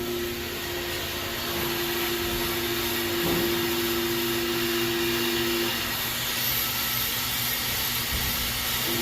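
A Pro Cut on-car brake lathe cuts the front rotor of a 2019 Ford Transit with a continuous loud whirring drone and a steady tonal hum that stays constant throughout.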